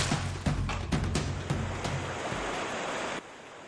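A raging jungle river with churning water, a loud, dense roar of rushing flow with surging pulses, steady and close until it drops off abruptly near the end.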